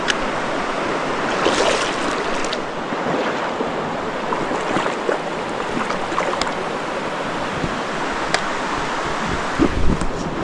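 A river in Linville Gorge rushes steadily past during a hiking crossing, a loud, continuous broadband wash of flowing water close by with no voices.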